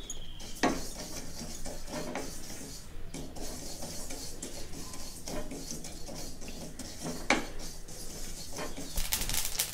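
Sesame seeds dry-roasting in a kadai for coriander chutney, with steady close scraping and clinking of a spoon stirring the pan, a few sharper knocks against the metal, and no voices.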